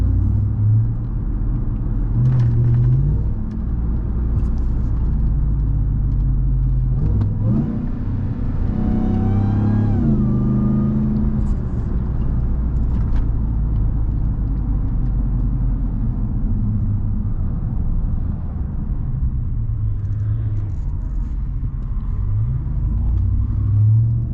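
A RAM TRX pickup engine drones while driving, a deep continuous rumble with one surge of revving and acceleration partway through before settling back into a steady cruise.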